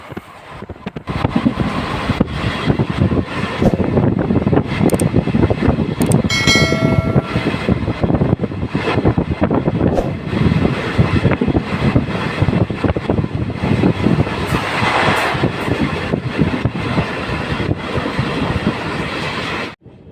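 A Karatagi to Yeshwantpur train passes on the opposite track, a loud, sustained rumble and rattle of wagons with brief clanks and high squeals, heard close from inside another moving train.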